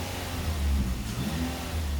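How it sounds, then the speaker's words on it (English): The engine of an enormous Falcon ATV quad runs with a smooth, steady low rumble and a slight swell in revs, close and even throughout. "Let's get the engine started. It works quietly and smoothly."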